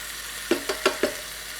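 Butter melting in a pan for a one-pot chicken fettuccine Alfredo, giving off a low sizzle with four quick soft taps or stirs spaced evenly, close and fairly quiet.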